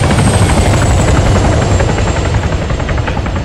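A close, loud helicopter in the video game Arma 3 churns with a steady rotor thump and heavy turbine roar, continuous and undiminished throughout with no voices over it.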